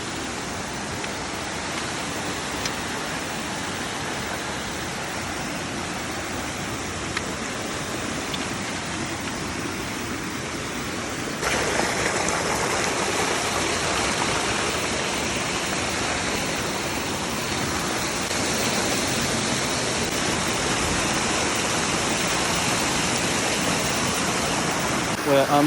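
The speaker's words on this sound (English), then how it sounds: "this is the cascade under the bridge" Small cascade of water tumbling beneath a bridge at Leura Cascades in the Blue Mountains, a steady broadband rush close by that grows louder partway through and runs continuously without pause.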